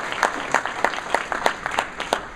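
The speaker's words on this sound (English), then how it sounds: "A round of applause for that." An audience at a Rancho Cordova community luncheon claps in a modest round of applause, individual sharp claps clearly distinct and spaced, close and fairly loud in a room.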